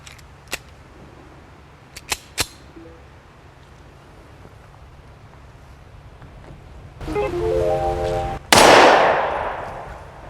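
A Tokarev TT-33 pistol firing 7.62x25mm rounds at an outdoor range: a few sharp, distant-sounding cracks early, a quieter stretch, then one loud, close report near the end.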